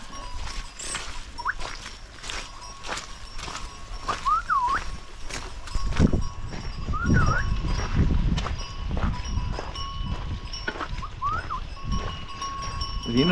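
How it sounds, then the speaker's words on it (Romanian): A flock of sheep arrives at a horse fair in Sighetu Marmației, Maramureș, with bells clanking in steady rhythm, hooves shuffling and scattered bleats coming closer and growing louder. "Vin fain oile."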